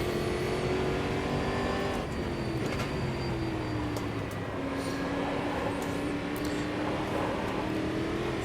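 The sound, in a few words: GT3 race car engine in the video game Automobilista 2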